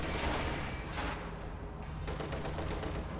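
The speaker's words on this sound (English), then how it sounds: "Another anti-tank gun strafe here." Anti-tank gun fire in Company of Heroes 2, a 1v1 World War II strategy match, as a sustained barrage of overlapping booming shots and rattling bursts that runs loud and dense throughout, with no talking.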